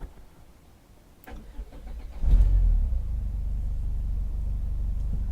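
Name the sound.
Renault Clio 1.8 engine starting and idling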